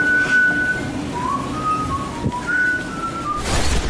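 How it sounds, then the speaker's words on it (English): A person whistles a Christmas tune, a clear solo melody of sustained and sliding notes close by with quiet room sound behind. "I'm not singing it, I'm whistling."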